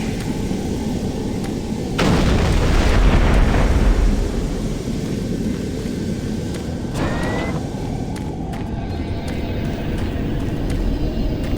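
A bridge blows up in Doom 3, a heavy rumbling blast surging in at about two seconds and rolling on for a few seconds over a constant low industrial drone, with a fainter second impact later.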